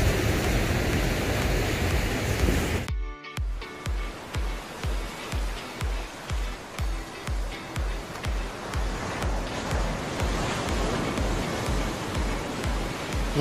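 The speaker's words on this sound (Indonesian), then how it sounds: "Menyaksikan dan mendengarkan deburan ombak dari atas puncak ini" Continuous roar of ocean surf heard from a hilltop above Ujung Suak Arung beach on Simeulue, with rhythmic pulses of breaking waves, steady and fairly loud, no voices.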